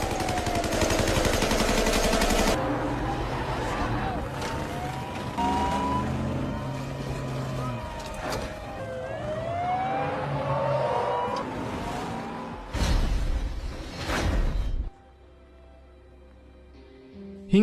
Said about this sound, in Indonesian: Dalam aksi kejar-kejaran, Sterlo tertembak dan tewas